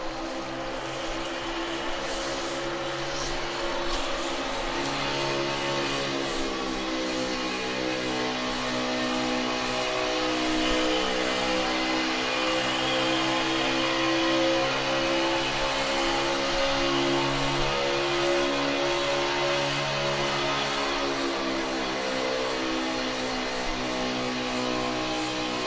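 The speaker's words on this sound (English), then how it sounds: "so that the viewers at home can kind of hear some throttle control and stuff like that the leaders do" A GC sports car engine heard onboard during a ride-along lap at a Texas race track, a loud, steady droning roar with a slowly shifting pitch as throttle is held and modulated, continuous throughout.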